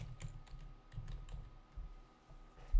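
Light, quick clicks of typing on a computer keyboard, several clusters of keystrokes, close and fairly quiet, with no talking.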